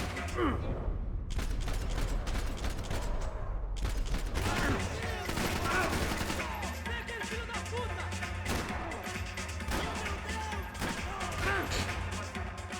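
Rapid bursts of gunfire crackle continuously in Max Payne 3, layered volleys of shots with crashes and booms, like a busy firefight.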